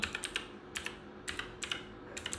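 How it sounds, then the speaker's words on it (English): A computer keyboard is typed on in a quiet room, with soft, quick keystrokes coming in short clusters separated by small pauses. "inside terminal okay type pip install pygame"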